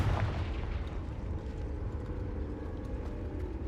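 A Confringo fire spell explodes in Hogwarts Legacy: a deep booming blast at the start that fades into a low rumbling crackle, fairly quiet overall with no talking.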